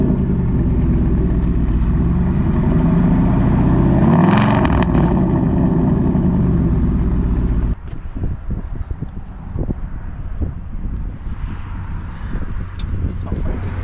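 A 2020 Ford Mustang GT engine runs with a steady low rumble and some wind noise, then drops to a quieter idle while faint voices talk.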